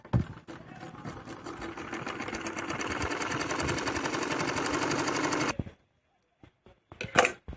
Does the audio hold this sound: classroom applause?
no